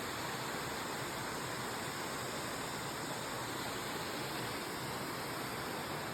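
Makeli Ella waterfall at Kalawana, Sri Lanka, pours with a steady, dense roar of falling water, constant and unbroken from start to finish with no voices.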